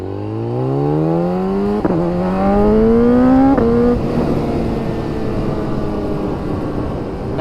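A 2013 BMW S1000RR sport bike engine runs close by and revs up twice in rising sweeps, each dropping back before the loud, rough idle settles and continues.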